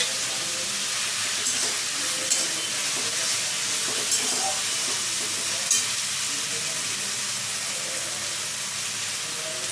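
Ginger paste and chili paste frying in a pan for green chicken, a steady loud sizzle and hiss with faint stirring clicks throughout, no voices.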